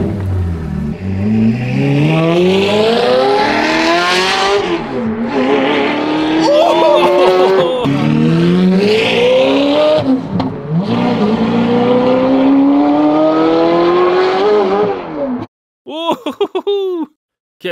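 A rebuilt, previously crashed Ferrari driven while its engine revs loudly through rising and falling gear pulls, heard from inside or close by, with people laughing and talking over it, then a brief final rasp.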